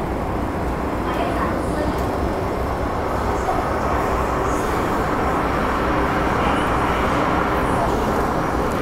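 MTR Island Line M-Train, unit A141, running between Kennedy Town and Sai Ying Pun in Hong Kong, giving a steady, loud, continuous rumble and rolling roar with constant intensity throughout.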